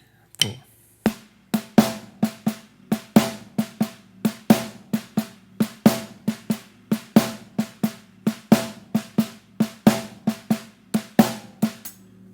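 A blues shuffle drum groove played on the hands with no bass drum: crisp, evenly spaced snare and cymbal strokes in a swung triplet feel, close and moderately loud, with a count-in tap at the start.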